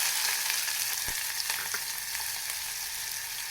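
Onion frying in a pan for vangibath upma, a soft, steady sizzle with a few light stirring scrapes, quiet and continuous with no talk.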